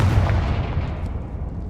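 A Confringo fire spell blasts in Hogwarts Legacy, a single heavy booming impact at the start that rumbles and decays over about a second and a half.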